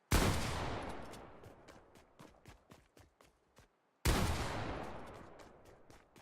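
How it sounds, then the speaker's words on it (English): Two loud Fortnite gunshots about four seconds apart, each followed by a long decaying echo and a rapid series of sharp, rattling clicks. "gunshots can tell you which direction someone is shooting from"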